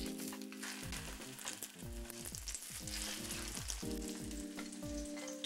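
Breaded pork cutlets, about a quarter inch thick and coated in flour, egg wash and breadcrumbs, frying in hot oil in a pan, giving a steady close sizzle with a louder tonal hum running underneath throughout.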